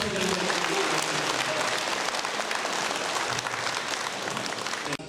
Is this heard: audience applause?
yes